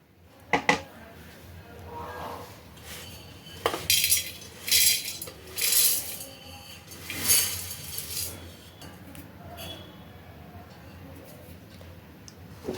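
Fried grated potato shreds being moved into another pot, with spoons and metal utensils clinking and scraping in irregular bursts, louder in the middle stretch, then quieter scattered taps near the end.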